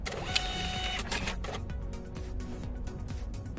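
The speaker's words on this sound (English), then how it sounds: "And the printer starts printing the invoice." A restaurant receipt printer runs off an invoice, giving a steady mechanical whir with a rapid buzzing feed rhythm and a few faint clicks, close and continuous for a few seconds with no voices.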